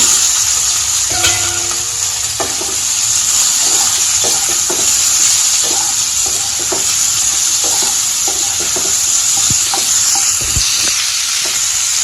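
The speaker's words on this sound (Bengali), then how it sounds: "এই যে সেদ্ধ করা ছোট আলু দিলাম।" Boiled small potatoes frying in a pan for a village home-style potato curry, a steady close sizzle with a spoon scraping and stirring at irregular intervals, no talk.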